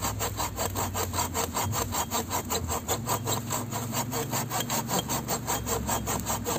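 A Silky hand saw cuts through wood in a steady, rapid back-and-forth rhythm, each stroke a close, rasping scrape repeating evenly.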